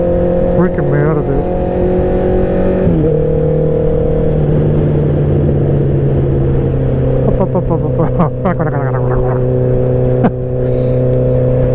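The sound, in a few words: motorcycle engine revving loudly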